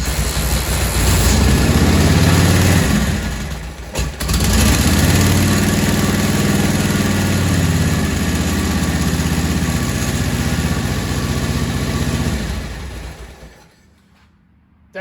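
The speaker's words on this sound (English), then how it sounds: "That's how easy it is to kick over this 1942 Harley." A well-worn, pre-warmed 1942 Harley-Davidson flathead motorcycle, started by hand, idles loud and close with a deep, steady, loping rumble, briefly dips, picks up again, then dies away near the end.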